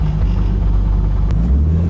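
A BMW E36 with a turbocharged S52 engine driven hard, a loud deep engine drone with heavy low rumble and a brief sharp click partway through, heard close from inside the car.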